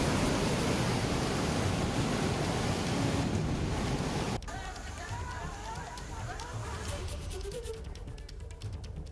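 Floodwater rushes at Kakolat waterfall in Nawada, Bihar, a dense, loud roar that drops to a softer, steady wash partway through, with a voice speaking over it.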